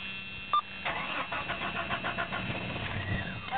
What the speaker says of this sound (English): I get this damn car to turn on.